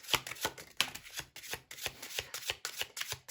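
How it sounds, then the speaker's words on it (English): Oracle cards are shuffled by hand in quick, rhythmic bursts of papery riffling and soft slaps, close and fairly quiet with short pauses between passes. "I'm guided to keep shuffling"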